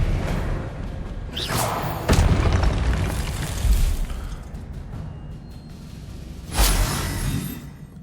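An Expelliarmus spell cast in the video game Hogwarts Legacy, heard as booming magical bursts with sharp thuds over a steady rumbling game soundscape.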